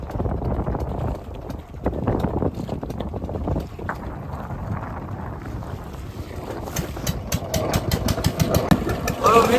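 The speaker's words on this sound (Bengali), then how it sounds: "ইঞ্জিন চালিয়ে বসে তুলতে হচ্ছে।" Fishing boat engine running on a rough river in the Sundarbans amid strong waves, a steady engine rumble mixed with wind buffeting and splashing, close to the microphone, with voices at times.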